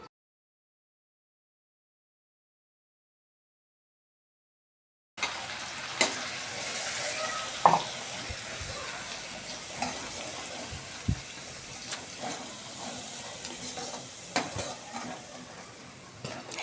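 Raw ground masala paste sizzles and fries in about two spoons of hot oil, with steady crackling and occasional scrapes of stirring, close and alone after several seconds of silence.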